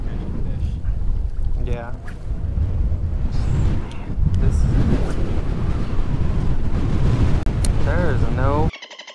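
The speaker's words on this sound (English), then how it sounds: "I'm sure you can hear that wind on the GoPro." Heavy wind buffets a GoPro camera mounted on a small 13-foot skiff running across a bay, a constant loud roar of gusting noise with engine and water beneath, while a voice briefly speaks over it.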